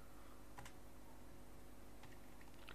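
Quiet computer keyboard typing in short bursts of clicks, a few keystrokes at a time against a soft room hum.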